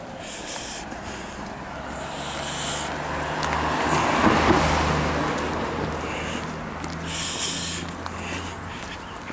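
Traffic noise on a road, where a car swells up loudly as it passes close by and then fades into a steady rumble of further vehicles, with no voices.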